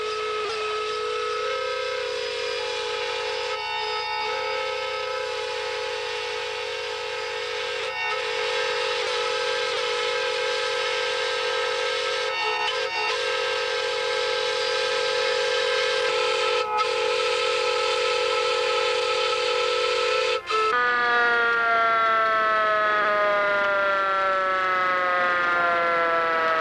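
Several steam locomotive whistles, including Union Pacific 833, blow together at a 1997 National Railway Historical Society convention, a loud sustained chord of layered tones that holds for over twenty seconds before shifting pitch.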